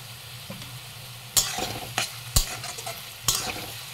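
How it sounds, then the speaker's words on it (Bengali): Onions frying in a pan with whole garam masala, salt and turmeric; a low steady sizzle sits under a few sharp spatula knocks and scraping stirs, close and fairly quiet. "পেঁয়াজটাকে না বেশ ভালোভাবে লাল লাল করে ভেজে নেব"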